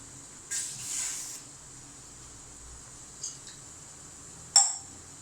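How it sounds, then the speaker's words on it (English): Pan set down on a stovetop and milk poured in while cooking sooji paal kozhukattai: a soft pouring hiss, a faint clink, then a sharp metallic clatter, all fairly quiet. "now I am keeping one more pan and adding the milk"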